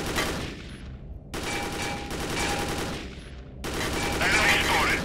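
Continuous loud gunfire in the VR shooter Dead Effect 2 VR on Oculus Rift, dense rapid shots running in several bursts with brief breaks, close and dominant throughout.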